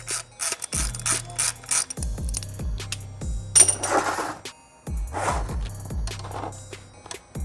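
A hand ratchet with a T50 Torx bit loosening the oil drain plug on a BMW M 1000 RR motorcycle, giving close metallic clicking runs in short bursts, with clanks and scraping in between.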